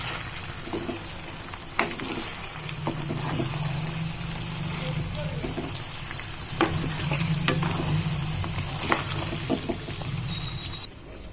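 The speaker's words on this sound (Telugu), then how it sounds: "అల్లం వెల్లుల్లి పేస్ట్ పేస్ట్ని కూడా ఇందులో వేసి వేయించుకుందాం" Ginger garlic paste fries in hot oil for a chicken pickle, giving a steady, moderate sizzle with occasional stirring clicks. A voice talks quietly over it.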